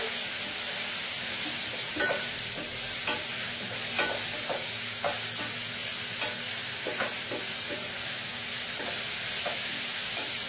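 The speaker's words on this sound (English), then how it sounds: "we're going to mix the mushrooms and the courgettes together" Mushrooms and courgettes are stirred together in a hot frying pan, giving a steady close sizzle broken by irregular soft scrapes and clicks of the utensil. There is no talk.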